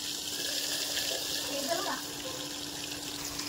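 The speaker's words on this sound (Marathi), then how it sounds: "मी तुम्हाला टाकून दाखवते अशा पद्धतीने।" Paneer cubes tossed into a hot pan of oil give a steady, close sizzle with fine splattering hiss that holds for several seconds.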